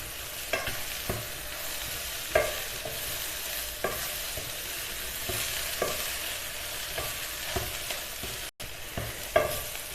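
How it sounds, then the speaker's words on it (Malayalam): A spatula stirs and scrapes Kerala-style chicken thoran with pepper powder in a hot pan, giving steady frying sizzle with periodic close scraping strokes throughout and no voices. "കുരുമുളക് പൊടി ചേർത്ത് നന്നായിട്ടൊന്ന് മിക്സ് ചെയ്തെടുക്കാം"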